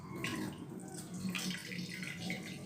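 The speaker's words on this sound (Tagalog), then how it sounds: "So, itapon na natin yung tubig" Boiling water is poured out of a pot of pork bones into a sink, a steady, soft splashing gush with gurgling that runs throughout.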